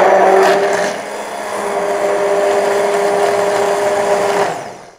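A blender whirs steadily for about four seconds as it mixes bulletproof coffee with vanilla and cinnamon. The loud, close motor hum winds down at the end.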